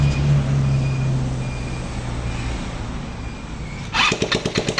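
A Rusi Passion 125 motorcycle that has been hard to start sits under a steady droning hum until its engine catches near the end and settles into a close, fast, rhythmic putter.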